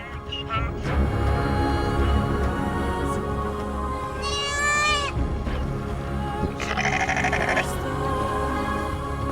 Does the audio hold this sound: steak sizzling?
no